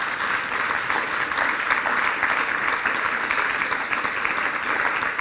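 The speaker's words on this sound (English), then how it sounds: "please give the panel a great hand of applause." An audience applauds a trade-regulation panel, with steady, dense clapping that fills the room at an even level from start to finish.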